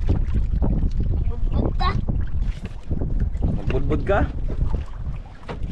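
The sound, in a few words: strong wind at sea on a fishing boat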